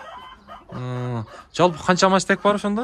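Adler breed chickens and roosters in a poultry pen, with a short clucking cackle near the start, while a woman asks a question close up.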